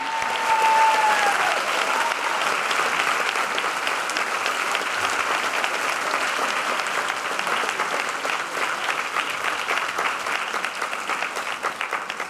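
Sustained, dense applause from a convocation audience, loud and even throughout with many hands clapping together and no one speaking.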